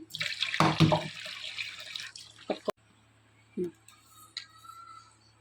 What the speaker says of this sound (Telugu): ఉడికిన దాంట్లో వేడి నీళ్ళు తీసేసి ఇలా సన్నీళ్ళు కొన్ని పట్టుకోండి